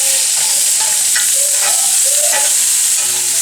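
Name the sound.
miso butter pork chops sizzling in a pan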